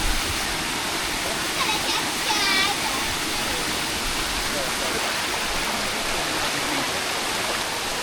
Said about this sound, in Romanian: Aici este o cascadă cu apă fierbinte.